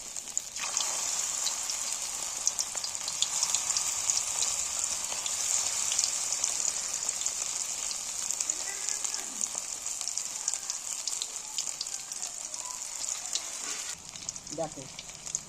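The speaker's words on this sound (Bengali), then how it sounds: "নিয়ে আমি তেলে ভেজে নিচ্ছি" Egg batter pieces coated in flour and powder hiss and crackle in hot oil, a steady dense sizzle running throughout at close range with no talk over it.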